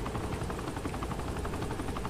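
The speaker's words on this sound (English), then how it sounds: "So they just caused two helicopters." Continuous helicopter rotor chop from a Saints Row The Third attack sequence, a dense steady pulsing drone with no voices over it.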